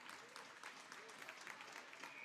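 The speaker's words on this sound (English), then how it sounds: "we get a round of applause for Sims." Steady crowd applause at a high school hockey game fills the clip, a dense wash of clapping that holds at an even level throughout, with murmuring voices underneath.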